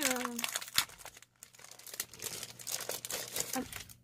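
Plastic pouches crinkle and rustle loudly near the listener, with bursts of crackling handling noise and a voice speaking briefly at the start.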